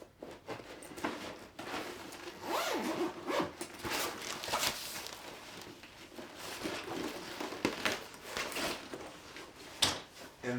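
A zipper is pulled around a padded stabilizer carrying case to open it, giving several short rasping strokes with pauses between. Fabric rustles and soft handling sounds come close and quiet.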